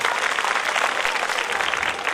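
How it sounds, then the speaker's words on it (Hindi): Steady clapping from a village audience at a women's rights rally in rural Haryana, dense and continuous across the whole moment with no voices over it. "एक बार इनके लिए सबके लिए ताली बजा दें आप।"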